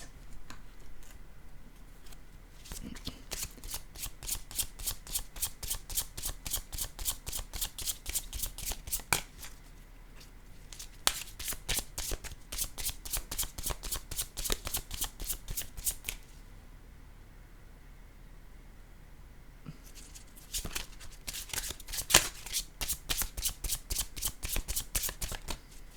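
A deck of playing cards is shuffled again and again for a card reading, crisp rapid riffles in long bursts with short pauses between them, close and clear.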